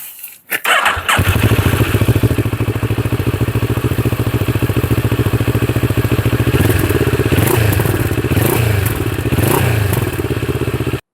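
A CFMoto motorcycle engine starts with a brief clatter and settles into a steady, loud idle, with a few throttle blips raising the revs near the end.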